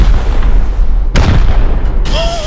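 Heavy rocket explosions boom during a raid in the video game Rust, with a dense rumbling blast near the start, another sharp burst in the middle and a third near the end, loud and close.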